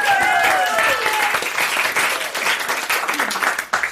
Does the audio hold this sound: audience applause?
yes